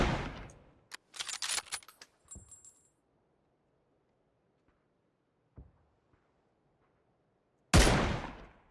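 Sharp video game gunshots from AWM and MG3 guns crack out in a quick burst, then scattered single shots and a loud final blast with a ringing tail, separated by near silence.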